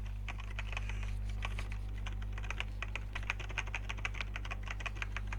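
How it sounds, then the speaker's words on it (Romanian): Rapid, fast typing on a computer keyboard, with dense, steady key clicks close to the microphone under a constant low electrical hum. "Au cum sună tastele pentru că mă grăbesc."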